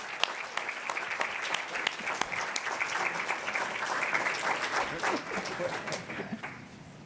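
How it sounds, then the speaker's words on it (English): A roomful of people applauds at a spring forum plaque award, many distinct claps close by over a steady crowd wash, rising through the middle and tapering toward the end. "round of applause for them"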